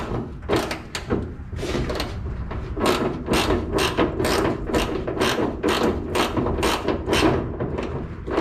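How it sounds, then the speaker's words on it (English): A ratchet clicks in rapid bursts while a bolt is removed from a Chevelle, the sharp, close pawl ticks repeating steadily without a break. "Okay, got that bolt removed."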